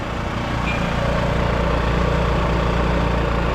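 A small portable gasoline generator with a roughly 4-liter tank runs steadily after starting at a market stall, a continuous buzzing engine drone at an even idle, close and unbroken.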